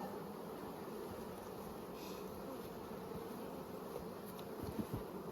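Honeybees buzz in a steady, dense hum around an open brood box in a spring hive, a continuous close drone with occasional louder individual passes near the end.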